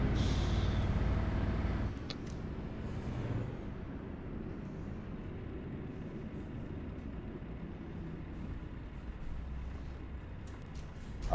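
A truck's air brakes hiss in Euro Truck Simulator 2, a loud release of air in the first two seconds, then a steady low engine rumble and road noise carrying on with no talk.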